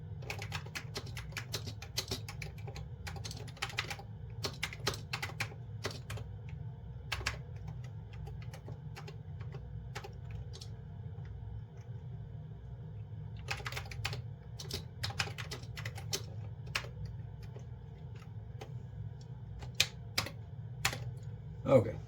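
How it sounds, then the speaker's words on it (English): Brisk keystrokes clatter in uneven bursts on a computer keyboard, close and fairly quiet, with short pauses between runs of typing over a faint steady hum. "So let me type this in."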